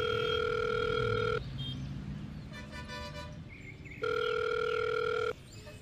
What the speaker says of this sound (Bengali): কাকে জিজ্ঞেস করা যায় সেটা অনেক ভেবেচিন্তে শেষে দীপ্তময়বাবুকেই ফোন করে।